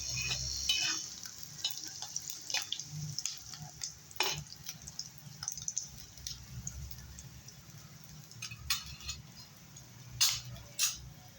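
Boiled potato is mixed into a sabudana khichadi frying in a pan, a low steady sizzle broken by scattered scrapes and taps of a spoon against the pan.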